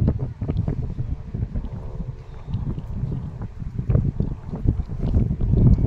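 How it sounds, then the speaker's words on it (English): Steady wind blows outdoors on a disc golf course, a continuous low rumble with gusty buffeting against the microphone throughout. "The wind bashed it down."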